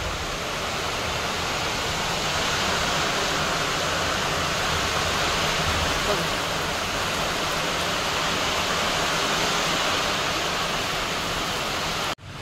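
Heavy rain pours down in a dense, unbroken roar that holds steady throughout, then cuts off abruptly at the very end.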